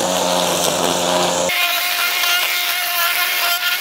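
A Litheli 40-volt cordless battery string trimmer runs steadily at low speed, giving a loud, continuous whining motor hum whose tone shifts partway through, with no talking.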